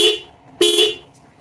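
Two short toots from the weak stock horn of a 2008 Subaru Outback, thin and high-pitched, loud and close with a brief gap between the blasts and no talking.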